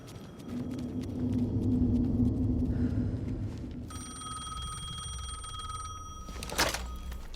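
Telephone ringing in Alan Wake 2: a bright, sustained electronic trill sounds over a low rumbling ambience, ringing steadily for several seconds and then cutting off.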